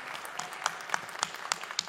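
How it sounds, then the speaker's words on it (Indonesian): An audience at a comedy competition in a hall claps for the match MVP, scattered, fairly faint handclaps spread across the room. "Tepuk tangan sekali lagi untuk MVP match kita."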